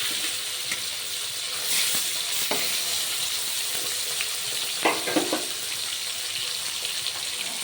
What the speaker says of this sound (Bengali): এবার দিয়ে দিলাম মাছগুলো এক এক করে সবগুলো।